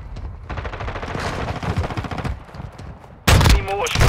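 Automatic gunfire from a Call of Duty Modern Warfare II multiplayer match, with dense rapid bursts running continuously and a louder close burst near the end, mixed with game voice callouts.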